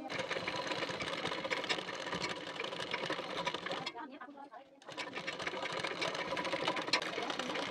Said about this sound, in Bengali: নিয়ে এখান থেকেও সেলাই দিয়ে নেব।